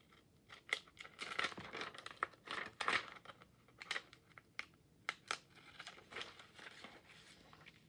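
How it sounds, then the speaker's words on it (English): Pinking shears snipping through paper for a collage journal page, a run of crisp, irregular cuts and crinkles, close and fairly quiet, with no talking. "I'm going to use my pinking shears to get a little bit more texture and a different kind of look."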